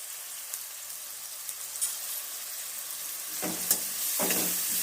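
Sliced onions sautéing with salt in a little leftover oil in a frying pan for a roadside-style mushroom masala, a steady soft sizzle with a few clinks and scrapes of stirring near the end.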